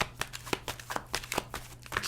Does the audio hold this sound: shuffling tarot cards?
yes